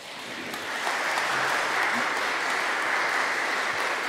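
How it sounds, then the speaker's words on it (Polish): An audience applauds steadily after a lecture by a professor at a Polish conference, a dense, even wash of clapping that swells slightly and holds at a constant level throughout. "Wielkie brawa."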